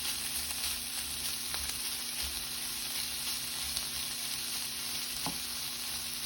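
Shrimp sizzle and fry steadily in a hot pan, a continuous close crackling hiss with faint stirring scrapes and no talking.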